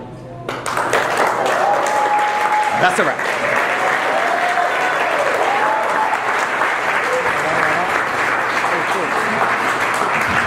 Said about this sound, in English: Round of applause for the groom, Mr. Albert Santos.